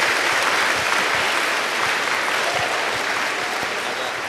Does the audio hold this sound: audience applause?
yes